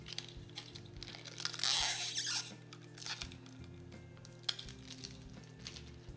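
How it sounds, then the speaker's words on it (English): Thin plastic protective film being peeled off an MDF coaster blank, a brief crinkly tearing burst followed by quieter crackles, over a low steady machine hum. "they do come with a plastic protective coating on there, so you must remove that before you sublimate"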